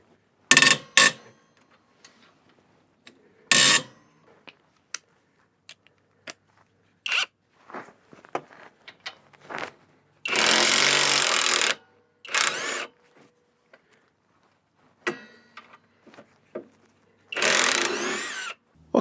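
Power tool loosening tight U-bolts over a trailer axle: several sharp, loud bursts of whirring and rattling, separated by quiet gaps filled with small clicks and metal clinks close by.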